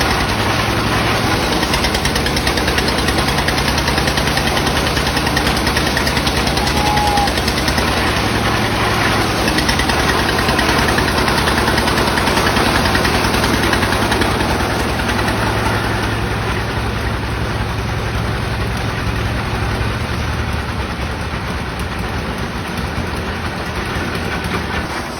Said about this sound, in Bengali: এখানে ড্রিল পাইপের সাহায্যে বোরিং করা হচ্ছে, এবং ড্রিল পাইপের উপরে হুইস পাইপ লাগানো আছে,